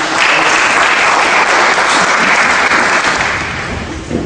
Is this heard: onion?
no